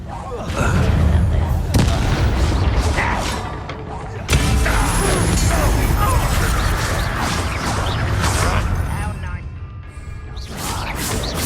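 Bombarda spell blasts from the game Hogwarts Legacy, set in goblin mines, ring out as loud booming explosions with crashing debris, one sharp burst near the start and another a couple of seconds later, over dense continuous battle noise.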